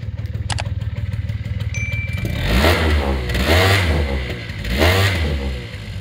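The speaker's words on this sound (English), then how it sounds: "And now we'll give it a few revs." A 1998 Honda Julio 50 scooter's small two-stroke engine idles, then revs up three times in rising, whining bursts that fall back between each blip.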